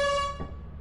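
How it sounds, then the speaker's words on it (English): A single short blast from an air horn item in the modded video game Lethal Company: a steady, buzzy tone that cuts off after a fraction of a second, fairly faint and alone. "That was my air horn."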